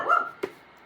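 Gizmo, a pet dog, lets out a single short bark indoors, a bright yip-like burst that ends quickly after a brief whining lead-in.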